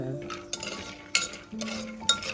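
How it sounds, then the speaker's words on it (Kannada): Peanuts frying in about two spoons of ghee in a cooker while being stirred for tomato rice, with a soft sizzle broken by several crisp scraping clinks of a spoon against metal. "ಈಗ ಶೇಂಗಾ ಹಾಕೊಂಡ ಫ್ರೈ ಮಾಡ್ಕೋರಿ ಎಲ್ಲ"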